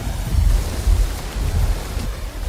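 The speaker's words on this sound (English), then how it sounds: "The rain falls hard." Heavy tropical wet-season rain pours steadily in a dense, continuous roar with a deep rumbling undertone, no voices present.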